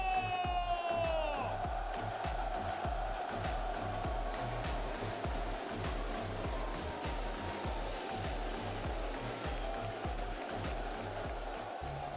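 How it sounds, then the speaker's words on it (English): A large crowd at an esports watch party roars and cheers continuously, a dense wash of applause and shouting that fills the space, with a high whooping tone fading early on. "un tonnerre d'applaudissements"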